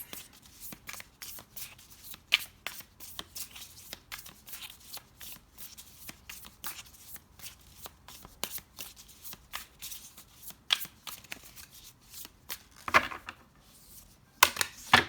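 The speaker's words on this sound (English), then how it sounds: "So let's pull some tarot cards to go with this, clarify these energies." Tarot cards shuffled by hand for a long stretch, a steady flutter of riffling and soft slaps with sharper snaps near the end, close and alone without speech.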